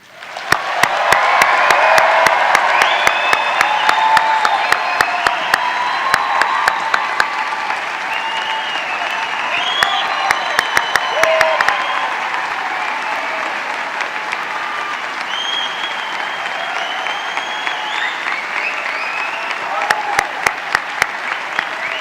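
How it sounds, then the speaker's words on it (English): A thundering ovation for the new veterinarians at a 2025 DVM commencement: loud crowd clapping swells at once, punctuated by sharp transients and scattered cheers and whistles, then settles into a slightly softer but sustained applause for over twenty seconds. "with a final thundering round of applause"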